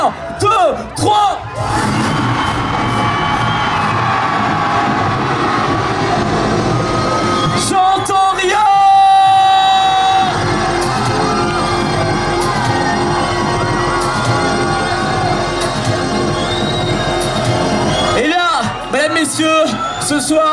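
A dense crowd at a firefighters' ball held on 13 July 2008 in Cestas yells, whoops and cheers loudly and continuously, with sharp bursts of shouting that swell and ebb over sustained tones.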